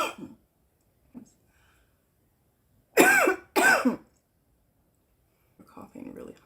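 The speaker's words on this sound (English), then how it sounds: "coughing really hard" A girl coughs hard in two loud, harsh bursts close to the listener, with faint breathy sounds and quiet murmuring before and after.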